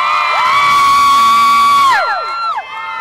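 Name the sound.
enthusiastic crowd cheering for Pepe Aguilar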